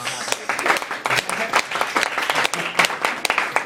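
An audience claps after an inspirational speech, a loud crowd of hands with individual sharp claps standing out in an uneven, busy rhythm that swells and dips across the stretch.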